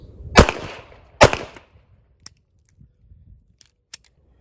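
A pocket pistol fires two loud, sharp shots about a second apart, each with a short echoing tail, followed by faint clicks and small handling taps.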